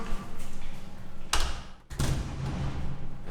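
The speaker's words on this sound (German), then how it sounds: "Tür abschließen." A hotel room door in Campeche, Mexico, is locked with two sharp, close thuds about a second apart over low background noise.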